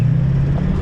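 Loud, close drone of a Duramax LB7 diesel with compound turbos in a solid-axle-swapped truck with a ZF6 manual, a steady low engine hum held for under a second.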